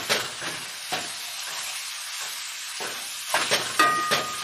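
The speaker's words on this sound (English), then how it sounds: "And we will just continue to chop and mix and fry the meat up here." Ground meat for spicy sweet sloppy joes fries in a pan while being chopped and stirred, a steady close sizzle broken by repeated sharp scrapes and taps of the utensil, with no talking.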